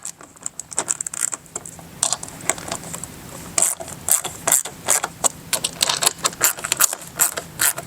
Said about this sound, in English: And now we can go ahead, lightly snug our screws down.